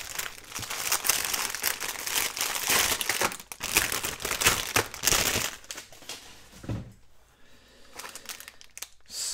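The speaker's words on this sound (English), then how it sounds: "excuse the crinkling while I open it" Plastic packaging around craft thread crinkles and crackles loudly as it is opened, a dense close rustling for several seconds that thins out into sparser crumples near the end.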